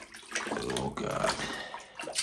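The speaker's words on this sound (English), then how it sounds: "Hot water, cold water, you mix them and you pour them into here." Mixed hot and cold water sloshes and pours into a bucket for a bucket shower, in uneven splashing bursts close to the microphone.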